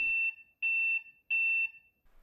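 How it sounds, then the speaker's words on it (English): A Philips 286 laptop sounds its startup beep code for a video fault: three sharp, identical electronic beeps, evenly spaced and loud, with nothing else around them. "So at startup, you get a single beep. Then you will get a long beep and three short beeps."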